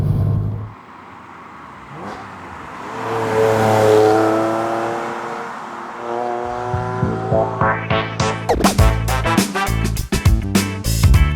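An old Porsche 911's engine drives and revs, a steady drone with rising harmonics early on, then a loud, choppy run of sharp bursts and gear changes near the end.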